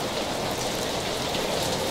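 Steady rain falls in Vila Regina, Itaquera, São Paulo, a continuous dense hiss of drops hitting surfaces nearby, unbroken and even throughout.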